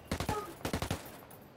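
Rapid bursts of gunfire in the tactical shooter Ghost War, two quick volleys of about three sharp shots each, fairly close and loud, with a quiet pause after.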